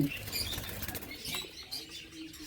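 Diamond doves flap their wings in an aviary, a steady rapid fluttering rustle close to the microphone with no talking.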